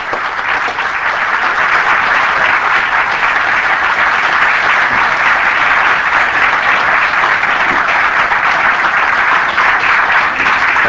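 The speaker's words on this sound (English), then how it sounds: "give him a big Dallas round of applause" A large audience applauds steadily to welcome a speaker at a lecture event in Dallas, Texas, a dense, loud, continuous wash of clapping lasting the whole stretch without a break.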